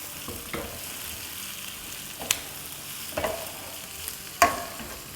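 Chicken and bell peppers stir-fried over a high flame, a steady hissing sizzle broken by a few sharp scrapes and knocks of a spatula in the pan, near and alone without voices.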